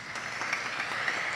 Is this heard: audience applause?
yes